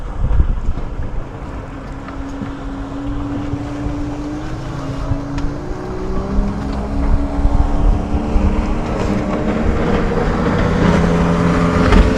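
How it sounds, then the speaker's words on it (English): A panga motorboat closes in quickly on a sailboat at sea. Its engine drones and builds in loudness and pitch under constant wind and water noise. "We have a panga approaching super quick here"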